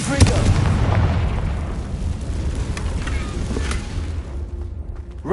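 A Confringo blasting spell explodes in the Hogwarts Legacy video game with a loud, sharp blast followed by a rumbling, crackling tail that fades over several seconds, with a few small pops near the end.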